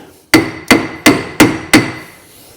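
Five even, sharp metallic hammer taps on the brake caliper of an MG ZS during a brake upgrade, close and loud, evenly spaced with brief ringing decay; no speech.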